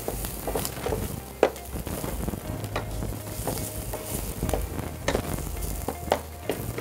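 Shrimp biryani ingredients sizzle gently in just a little oil over low heat, a steady soft crackle with occasional sharper pops and stirring scrapes, no voices.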